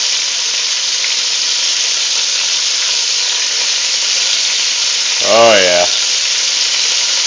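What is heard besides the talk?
lean hamburger frying in bacon grease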